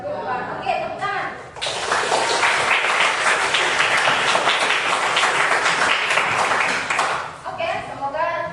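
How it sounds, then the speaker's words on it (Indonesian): Students clapping hands together in a classroom during a fiqh lesson on qurban sacrifice, a burst of dense clapping lasting several seconds, framed by a voice talking before and after. "Oke, tepuk tangan"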